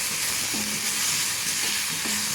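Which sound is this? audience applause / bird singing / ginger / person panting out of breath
ginger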